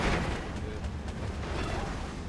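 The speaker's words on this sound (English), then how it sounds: "There's also just a little bit of artillery in the area." Artillery in Steel Division 2, a dense rolling rumble of distant booms and bursts layered into continuous battle noise, steady and fairly loud.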